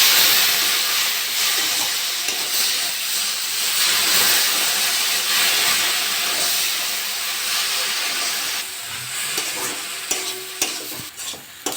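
Water poured into a hot pan of semolina for an aloo suji dish hisses and steams with a steady broadband sizzle, loud and continuous with stirring scrapes, no voices.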